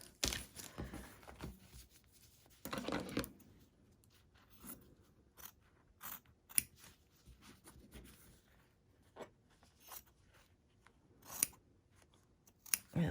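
Scissors snip fabric close up to trim the turning tab of an embroidered zip bag, a series of crisp irregular cuts with quiet gaps and soft handling between them.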